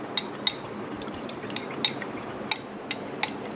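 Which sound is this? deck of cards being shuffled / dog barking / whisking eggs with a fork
whisking eggs with a fork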